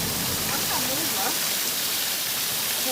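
A waterfall roars as a steady broadband rush of falling water close by, with faint voices speaking under it.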